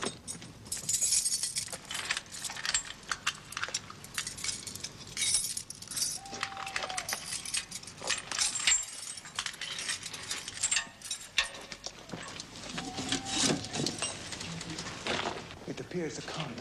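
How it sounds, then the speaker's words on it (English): Skeleton keys jangle and scrape metallically against a lock mechanism, with clicking and ratcheting amid a continuous dramatic score and speech in a vampire film scene. "Produce the skeleton keys."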